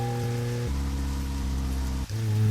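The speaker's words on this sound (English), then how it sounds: "It's raining. Enjoy the rain sounds." Steady rain falling in the video game Deadly Premonition, a continuous hiss over sustained low game tones, with no talking.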